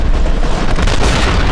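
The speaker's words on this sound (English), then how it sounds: "Okay, this cannon's way better against robots." A heavy cannon weapon booms in the shooter game F.E.A.R., a single dense, loud blast filling the short moment with rumbling low-end energy and no voices.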